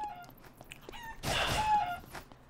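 A chicken in the video game Eternal Return clucks and crows, a short crowing call following a few quieter clucks against faint game ambience.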